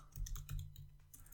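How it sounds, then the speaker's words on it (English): Rapid clicking of computer keyboard keys, a quick irregular burst of taps over a low hum, quiet and close. "we're typing. Pardon the noise."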